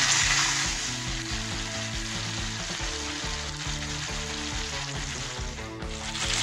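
Spice paste sautéing in a hot pan gives a steady, close, continuous sizzle and crackle, with soft stirring throughout and no talking.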